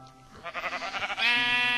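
Minecraft sheep bleat in a quick run of wavering, repeated cries, followed by a louder, sustained bleat that holds steady to the end, with no talking.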